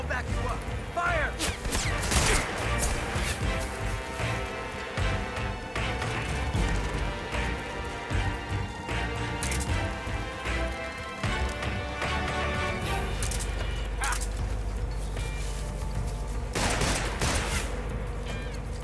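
Gunfire in Metal Gear Solid Delta: Snake Eater crackles as rapid, dense volleys of shots over game music and effects, with sharp bursts scattered throughout and a low rumble in the latter part.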